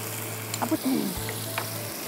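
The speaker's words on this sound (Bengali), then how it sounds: "এখন একটু নারকেল বাটা দিয়ে দেবো এর মধ্যে" Coconut paste is added to prawns and taro stolons frying in a pan, giving a steady close sizzle with a few soft stirring scrapes partway through and no talking.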